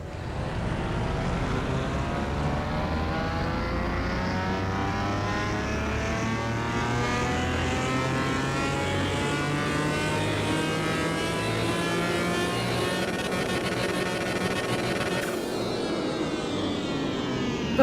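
Turbocharged McLaren F1 GTR Longtail engine in Car Mechanic Simulator 2021 revving hard, pitch sweeping steadily upward for many seconds before a brief drop near the end, loud and continuous with no talk.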